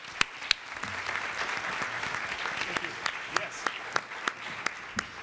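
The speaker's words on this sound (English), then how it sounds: "A round of applause for everyone." Audience applause at a panel discussion on Rikers Island, a steady patter of clapping with sharp individual claps standing out, moderately near, as a voice speaks briefly over it.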